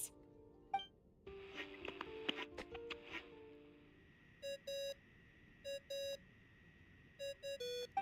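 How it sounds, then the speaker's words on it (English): A phone ringing tone in Genshin Impact: short, bright electronic beeps repeating in pairs and small clusters, clear against a faint background, after a brief stretch of clicks and chimes. "I really hate that ringing tone."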